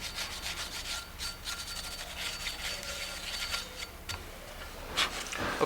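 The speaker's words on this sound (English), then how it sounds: "just give it a little light scuff to make sure we get any corrosion or any dirt that might be there" Light abrasive scuffing on a Victory motorcycle wheel hub and pulley to clear corrosion and dirt, a soft continuous rubbing scrape with short uneven strokes, close and fairly quiet.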